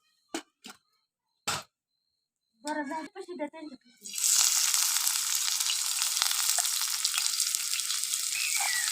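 Onion dropped into hot oil in a pan over a wood-fired chulha, erupting into a loud, steady sizzle after a few scattered knocks and clatters of preparation at the start.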